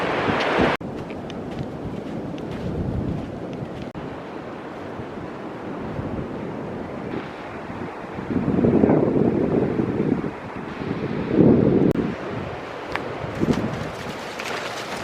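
Waves wash onto a beach in the Catlins, New Zealand, with gusty wind buffeting the microphone; surges swell and recede in irregular bursts, fairly close and moderately loud, with no talking.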